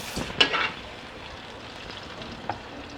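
Green chillies frying with ginger garlic paste in a pan, a faint sizzle with a couple of brief stirring scrapes near the start and one more soft knock later.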